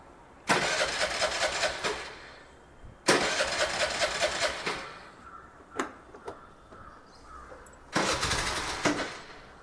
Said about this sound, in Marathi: स्टार्टर उचलते का बघू